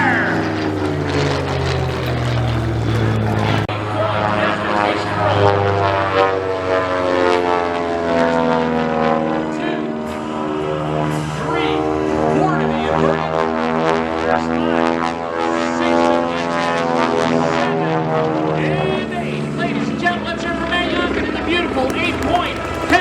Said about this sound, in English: the beautiful Supermarine Spitfire